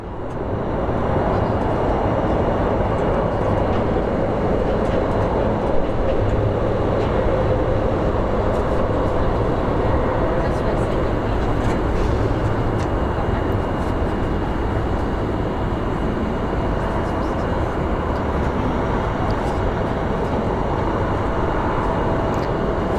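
An airliner lands at Phoenix Sky Harbor International Airport, heard from an outdoor plane-spotting spot. A loud, steady rumbling roar runs unbroken throughout.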